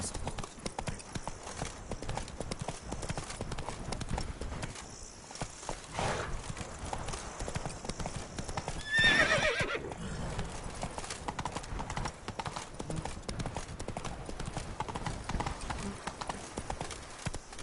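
Hooves of Roach, the horse in The Witcher 3, clatter in a steady galloping clip-clop, loud and continuous throughout, with a brief burst around the middle and a faint whinny possible under game music and effects.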